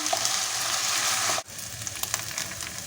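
Steady oil sizzle of rice frying in a pan, close and continuous, with a brief dip midway before the crackling resumes.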